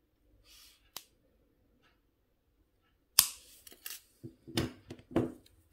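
Jewelry wire for a wire-wrapped bead pendant is cut, with one sharp snap standing out after a near-silent stretch, followed by several smaller close-up clicks and handling sounds.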